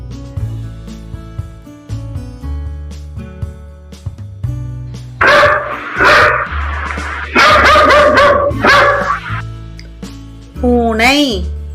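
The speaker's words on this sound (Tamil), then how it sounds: "நாய்" A dog barks in several loud bursts, followed by a high whimpering yelp, over steady background music.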